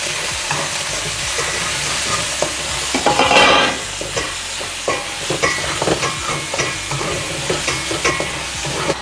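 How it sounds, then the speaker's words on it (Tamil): Onion and green chili sautéing in a pan for a paneer and capsicum curry: steady loud sizzling with repeated scraping stirs, no voice. "வெங்காயம், பச்சை மிளகாய் போட்டு நல்லா வதக்குவோம்"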